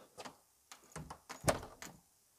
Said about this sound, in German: wie einfach diese Tür jetzt wieder schließt